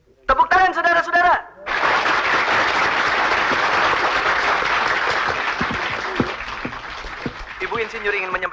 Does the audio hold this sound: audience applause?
yes